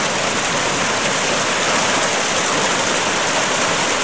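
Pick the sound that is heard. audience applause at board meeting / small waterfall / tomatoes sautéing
small waterfall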